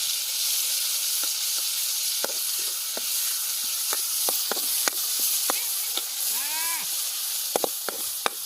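Garlic greens and ginger-garlic paste frying in oil in a pan on a village stone stove outdoors, a steady bright sizzle with scattered pops and crackles throughout, near and fairly loud.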